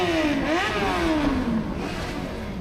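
Engines rev hard at a drag meet for supercars and superbikes, a loud, close, sustained roar whose pitch climbs, dips and rises again before settling into a steady drone, with no voices.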